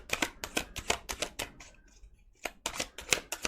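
Tarot cards being shuffled by hand in rapid bursts of crisp riffling and flicking, close and fairly quiet, with a short pause midway before the shuffling resumes.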